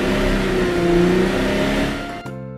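A toy car's engine revs in a steady, buzzing whir that holds loud and close for about two seconds, then cuts off abruptly into a faint ringing tail, with no voices.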